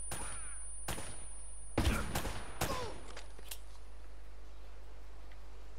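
Enemy gunfire in Uncharted: Drake's Fortune, several sharp shots in a short burst within the first three seconds, one louder blast near the middle, then a steady low background hum.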